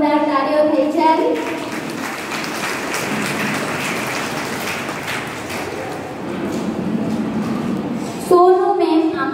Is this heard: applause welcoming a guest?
yes